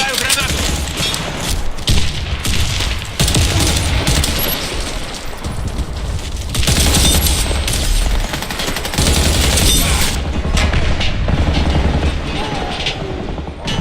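Dense, loud battle noise from the shooter game Warface, with continuous overlapping automatic gunfire and heavy booms that fit a thrown grenade going off, running without pause throughout, with voices mixed into the din.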